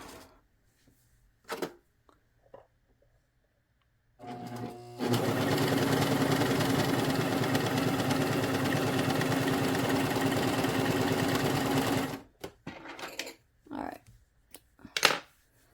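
A Bernette Funlock B48 serger sewing a 3-thread super stretch stitch runs in one steady, loud, continuous whir for about seven seconds, with quiet clicks and handling sounds before and after.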